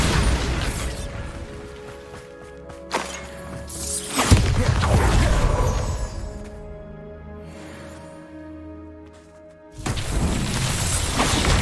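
Bombarda spell explosions in Hogwarts Legacy burst loud and close, with several booming blasts and crashing debris spread across the stretch and quieter gaps between them.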